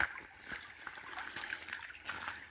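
A shallow creek flows on a rainy spring day, a soft steady trickle and babble of water, faint and close, with no talk.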